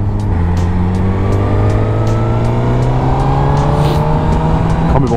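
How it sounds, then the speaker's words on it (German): A Suzuki GSX-R motorcycle accelerates hard on an open road, its engine note climbing steadily through a long rising pull under a constant wind rush, loud and close throughout. "Du drehst einmal den Gashahn auf und du bist einfach weg."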